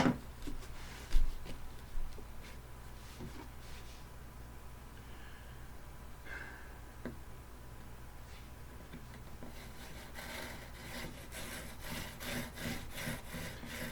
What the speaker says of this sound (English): Now we're going to start drilling our hole.